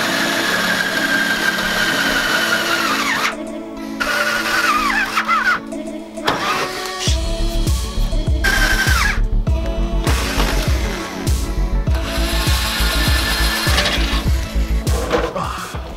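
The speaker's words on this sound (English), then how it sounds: "I'm gonna drill out every single hole so I can get every well nut to fit" A power drill whines and grinds through the metal body of a Nissan 350Z, drilling holes for well nuts, in repeated short bursts, stopping and restarting, close and loud with high squealing.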